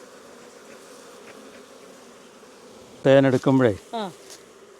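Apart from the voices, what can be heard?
honey bees buzzing around a beehive box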